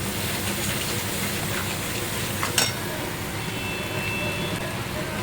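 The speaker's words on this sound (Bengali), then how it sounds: "সব কিছু দিয়ে ভালো করে এটাকে কষিয়ে নিচ্ছি" Ginger, onion and garlic paste with Kashmiri chilli powder and coriander powder sauté in plenty of oil, a dense steady sizzle running throughout, with one brief scrape of stirring.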